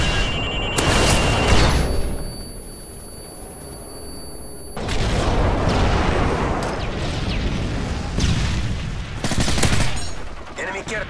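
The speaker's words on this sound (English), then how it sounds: "Enemy airstrike approaching." Enemy airstrike explosions in online Call of Duty MW3 multiplayer: loud rumbling blasts and gunfire bursts, with a sharp cut midway and a faint in-game voice.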